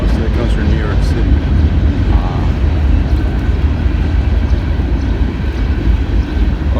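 A CSX freight train hauling garbage rolls past nearby, a loud steady rumble with rattling railcars that holds for several seconds with no clear break.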